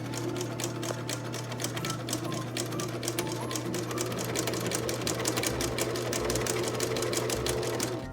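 A sewing machine runs steadily, stitching a small zigzag on a tote bag with a fast, even mechanical clatter from close by, with no talking.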